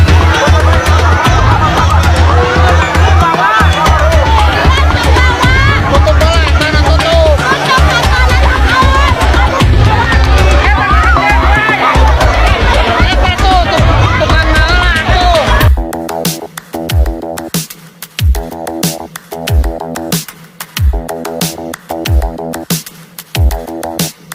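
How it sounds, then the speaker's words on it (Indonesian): A dense crowd of residents packs a pavilion courtyard waiting for free food, making a loud, continuous babble of many voices that later gives way to quieter, rhythmic sounds. "terlihat kerumunan warga semakin memadati pelataran pendopo"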